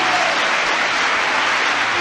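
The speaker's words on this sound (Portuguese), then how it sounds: "Aplauda o Senhor aí bem alto." Steady, dense applause from a large church congregation fills the space, loud and continuous throughout.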